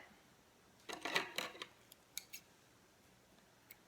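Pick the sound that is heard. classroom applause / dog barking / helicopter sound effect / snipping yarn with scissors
snipping yarn with scissors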